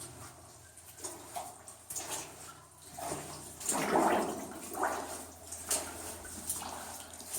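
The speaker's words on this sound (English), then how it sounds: "that water is making creepy noises" Water trickling and splashing inside an abandoned coal mine tunnel, a steady wet wash with irregular louder gurgles and drips rising and falling close by, with no talk.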